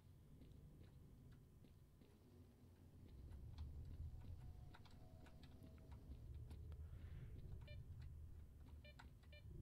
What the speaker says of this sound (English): Mind the Geiger counter clicking